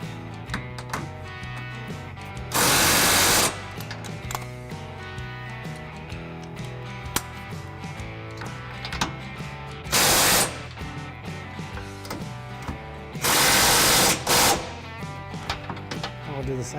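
Socket wrench tightening trailer hitch bolts under a 2016 Chevy Silverado 1500, with fast ratcheting clicks and metallic taps between three loud bursts of hissing noise.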